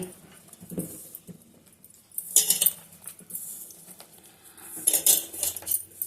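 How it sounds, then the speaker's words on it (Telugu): Ivy gourd pieces are mixed with gram flour, coriander powder, chilli, salt and turmeric in a bowl for pakoda batter, heard as intermittent bursts of clinking and scraping utensil sounds separated by quiet gaps. "దొండకాయలను బాగా కలుపుకోవాలండి"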